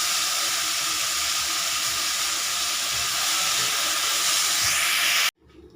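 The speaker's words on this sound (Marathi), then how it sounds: "मेथी टाकून परतून घ्यायची त्यांना" Fenugreek leaves sautéing in a pan give off a loud, steady, close hiss of frying that holds evenly and then cuts off abruptly near the end, leaving near silence.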